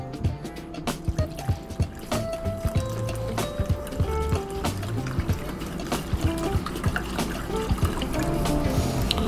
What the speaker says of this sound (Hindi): इसके बाद डालेंगे इसमें हम पानी